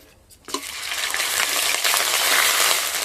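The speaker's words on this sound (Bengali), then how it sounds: "তারপরে দিয়ে দিচ্ছি আদা বাটা" Ginger paste drops into hot oil with cumin seeds in a wok, giving a sudden loud burst of sizzling that swells and then holds as a strong, steady hiss.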